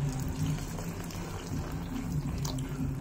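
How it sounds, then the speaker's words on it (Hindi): Water poured into a pan of matar paneer curry gives a steady liquid splashing and bubbling for the whole stretch, close and moderately loud, with no voices. "हम अब इसमें वाटर ऐड करेंगे।"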